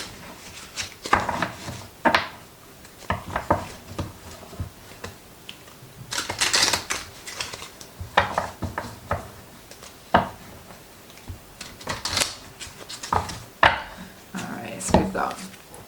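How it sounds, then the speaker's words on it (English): Tarot cards being shuffled in repeated quick riffling bursts, crisp and close, with a voice speaking intermittently between them. "Let's give these a good shuffle."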